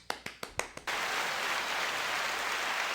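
A few separate claps, then a sudden burst of loud, dense applause sound effect from a crowd that continues steadily to the end.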